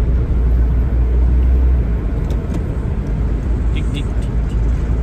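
An underpowered motor vehicle, kept at around 50, drones steadily with a continuous low engine and road rumble heard from inside while riding, loud throughout with faint higher clicks.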